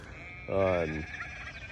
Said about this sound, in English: I got the sheep yelling at me